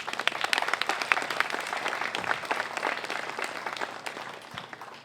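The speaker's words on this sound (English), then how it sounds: "a round of applause for Lisa" Audience applause at an Oregon first responders celebration, dense steady clapping from a crowd at moderate volume, tapering a little toward the end.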